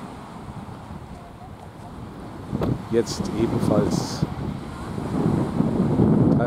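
A steady southerly wind blows at the seaside, a broad rushing buffet on the microphone with surf underneath, while someone speaks briefly in the middle.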